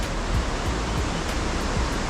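Cachoeira do Escorrega waterfall in Sana, Macaé, a dense, unbroken roar of falling water filling the air evenly, loud and close with no voices.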